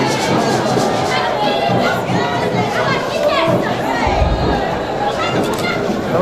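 A congregation at a French-speaking religious gathering honouring sisters raises a loud, steady wall of acclaim, cheers and crowd noise that holds without pause from start to finish.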